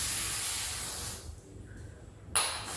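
Aerosol spray hissing onto a rolling office chair base during a base replacement, a loud steady spray for over a second, then a pause and a short second burst.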